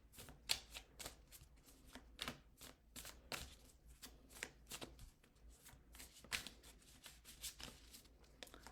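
Playing cards riffled and shuffled by hand for a spirit reading, a fast run of crisp flicking snaps repeating steadily, close and fairly quiet, with no talking.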